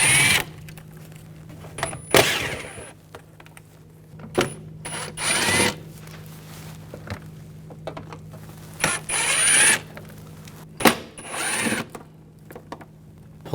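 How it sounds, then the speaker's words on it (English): T25 socket backing out grille screws on a 2004-2009 Audi A4 Quattro, irregular bursts of ratcheting clicks and metallic rattles between brief pauses, close by. "Using a T25 socket, I'll remove these screws."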